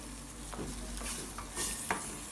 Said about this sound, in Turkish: Yağda iyice kavuracağım arkadaşlar.